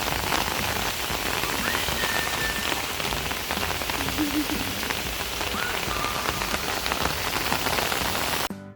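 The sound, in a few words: rain falling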